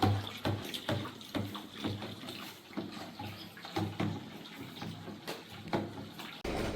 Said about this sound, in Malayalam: അപ്പൊ നമ്മൾ വലിയ ബോട്ടിൽ ഒഴിക്കുകയാണ്.